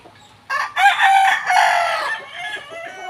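Gamefowl rooster on a game farm letting out a loud close crow that trails off into softer clucks, over quiet surroundings with no talking.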